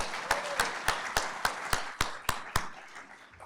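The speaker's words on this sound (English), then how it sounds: "Let's do a couple claps." Audience clapping at a city State of the City event, nine evenly spaced, sharp claps in a slow unison rhythm, fairly close and distinct, with the room falling quiet afterward.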